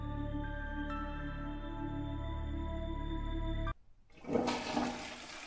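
A steady tonal hum plays, then cuts off abruptly before a toilet flushes with a loud gushing rush of water that swells and then slowly fades.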